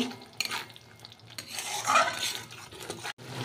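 Spice paste with a spoonful of sugar stir-fried in a pan for paneer doi kalia, with a soft sizzle under repeated scraping and clinking of a spatula against the pan, close and moderately loud.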